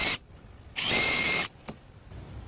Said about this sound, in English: So we're going to drill it out.